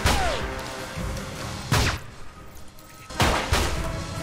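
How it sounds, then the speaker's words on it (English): Gunfire in the video game Alpha Protocol: three heavy, booming shots spaced about a second and a half apart, each with a rumbling tail, loud and close with no talk. "He's shooting the spot where the flashbang landed."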